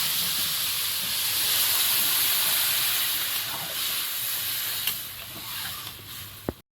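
Water poured into a hot fish curry in a Sundarbans village kitchen sends up a loud steady hiss of steam that fades gradually, ending with a sharp clink.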